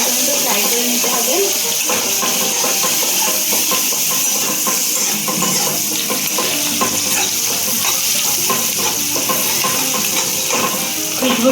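Onions, garlic and four green chillies frying in ghee in a pan for a prawn and taro stolon curry, giving a steady close sizzle with occasional stirring scrapes throughout.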